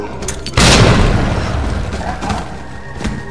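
A grenade detonates in Resident Evil 2 Remake, a sudden loud boom that rolls out and slowly decays, preceded by a few faint game sounds and followed by softer thuds.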